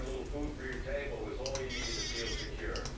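Sheep in a survival video game bleat a few times, their wavering calls heard under someone talking throughout.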